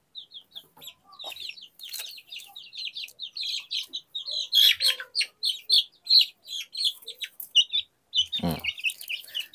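Many young chicks chirp continuously and densely at close range, their rapid high peeps overlapping in a busy chorus while they are picked up one by one to be given fish oil.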